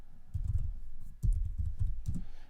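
A computer keyboard is typed on at a command line in a short run of quick, close keystrokes, a brief pause near the middle, then more taps, with no talk.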